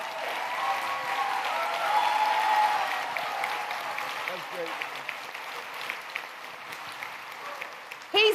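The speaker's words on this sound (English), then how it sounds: "Give him a round of applause." Audience applause fills a New York community impact hearing as parents in attendance are honored; the clapping is steady and moderately loud at first, thinning toward the end, while someone speaks over it.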